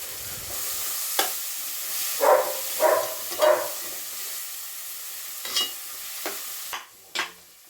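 Beans and tomato frying in a pan, stirred in a few separate scrapes and clinks over a soft, steady sizzle, heard close up with no talking.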